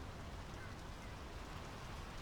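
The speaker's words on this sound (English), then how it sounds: "The rain's picking up." Rain falls steadily in the video game Draugen, a soft even hiss with no breaks, faint and continuous throughout.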